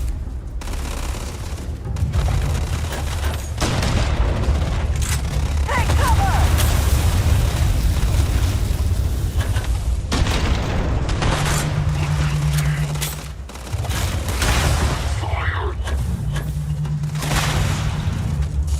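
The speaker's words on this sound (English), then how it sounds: "The damage she's doing with the grenade launcher." Heavy explosive booms and gunfire from a grenade launcher firing in Starfield combat, rumbling steadily throughout with bursts stacking on each other, loud and close, with a voice speaking over parts of it.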